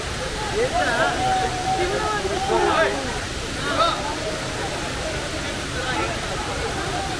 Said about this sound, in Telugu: ఇదిగోండి మీకు వాటర్ ఫాల్ అనేది మెయిన్గా చూపిస్తాను.